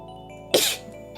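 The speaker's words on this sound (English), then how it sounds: "that was a sneeze" One abrupt, loud sneeze, over in a fraction of a second, stands out against a quiet background with faint music from Animal Crossing: New Horizons.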